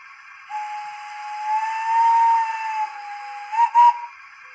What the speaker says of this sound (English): And 6 is a fancy whistle, which can also be dualed.